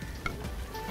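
Fish frying in a pan: a steady, close sizzle and crackle throughout the short stretch, with a faint utensil scrape and no talking.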